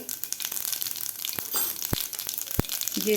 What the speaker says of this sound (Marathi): तेल आपलं गरम झालेलं आहे. यामध्ये घालायचे आपल्याला अर्धा चमचा मोहरी, अर्धा चमचा जिरे